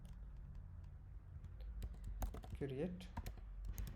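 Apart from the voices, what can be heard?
typing a command on a computer keyboard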